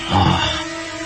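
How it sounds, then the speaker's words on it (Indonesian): A lion's roar rings out in an Indonesian audio drama, a single short, loud, deep growling roar close up that fades with a lingering tail. "Kedengarannya seperti suara auman seekor singa."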